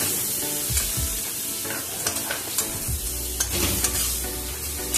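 Ground coriander spice masala with chopped tomato is sautéed in a pan, loud sizzling under repeated scraping strokes of a spatula, close and without talk.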